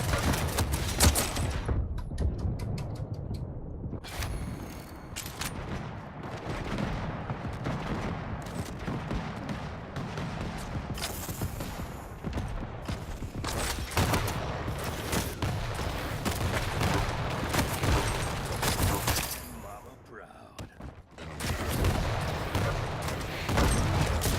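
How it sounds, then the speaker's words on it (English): Machine gun fire in the arena shooter Quake Champions, sustained rapid rattling volleys that run almost nonstop, loud and dense, with a brief lull near the end. "Really annoying machine gun fire from the mega health."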